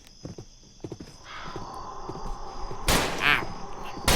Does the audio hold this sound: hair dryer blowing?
no